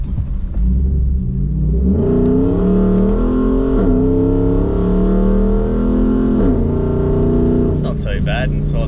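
A Nissan Patrol Y62 fitted with Hooker mufflers revs loudly, its exhaust rising and falling through several throttle blips with a deep rumble heard close, and voices talking over it near the end.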